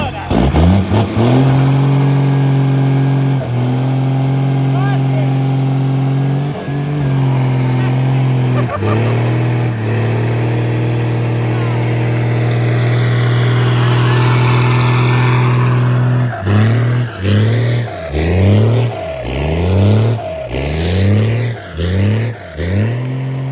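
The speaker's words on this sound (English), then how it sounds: "Cummins-swapped Daimler Limo, Burnout." A Cummins diesel-swapped Daimler limo with a lost exhaust clip holds long, loud revs that rise and fall, then breaks into a series of rapid, throbbing surges during the burnout.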